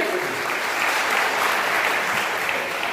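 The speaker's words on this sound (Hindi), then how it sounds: "तालियां बजा दीजिए" Steady, dense applause from a large audience at a Hindi poetry recital (kavi sammelan), sustained evenly throughout with no talking.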